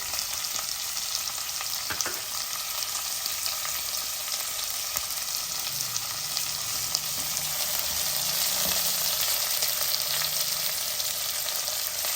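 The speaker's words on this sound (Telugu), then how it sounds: "తర్వాత మన ఉల్లిపాయలు వేసేద్దాం పచ్చిమిరపకాయలు" Onions and green chillies sizzle steadily in hot oil for tomato rasam, a dense continuous frying hiss with occasional stirring scrapes, close and alone without talk.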